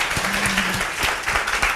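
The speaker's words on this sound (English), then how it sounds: "We can applaud him." Lecture audience applauding a pianist, a short burst of steady clapping from a roomful of people with a faint voice briefly underneath.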